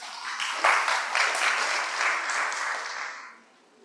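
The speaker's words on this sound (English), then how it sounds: "let's welcome him with a big round of applause" An audience welcomes a speaker at an academic event with steady applause, a dense crowd clapping that swells quickly, holds for about three seconds and then fades out.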